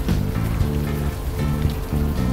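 Steady rain falls in the video game Unavowed, a constant wash of patter running throughout without a break, with a low tonal music bed humming beneath it.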